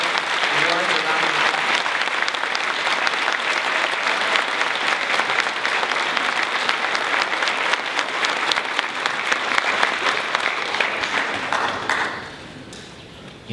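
Sustained applause fills a hall for academic award recipients at a school graduation ceremony, loud and even for about twelve seconds before tapering off sharply into quieter room tone.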